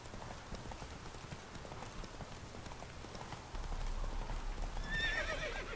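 Horse hooves clip-clop steadily at a gallop in The Witcher 3, then the horse lets out a whinny near the end, with faint game ambience beneath.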